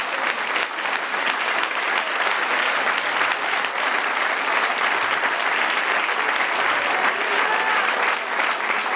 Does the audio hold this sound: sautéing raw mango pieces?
no